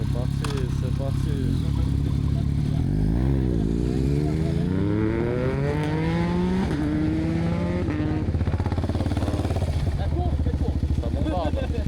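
A motorcycle speeds along a winding road near Cairns, Australia, its engine revving and rising in pitch through repeated accelerations, loud and close over steady wind noise.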